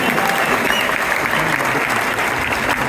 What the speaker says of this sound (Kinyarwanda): amashyi tuyakome cyane tubitekerejeho tuyakome cyane